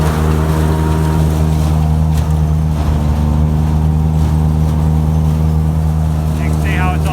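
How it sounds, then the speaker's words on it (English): A farm tractor drives a silage blower that pushes chopped feed up a pipe into a silo, a loud steady droning engine hum with a constant rumbling whir and no pauses. "This tractor runs the blower like a big fan, and it blows it up that pipe where it goes right into the silo."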